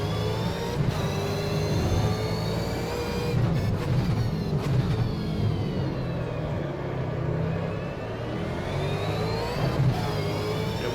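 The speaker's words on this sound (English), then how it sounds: "Wheel spin in first gear there" V8 Supercar racing at Pukekohe, Auckland: a loud, steady engine roar spins its wheels in first gear, a dense continuous drone with rising and falling whine, close and alone without talk.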